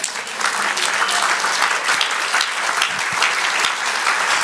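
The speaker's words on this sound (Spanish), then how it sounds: "¿No le dan un aplauso a Dios?" A church congregation claps steadily and loudly throughout, a dense sustained round of applause during a sermon.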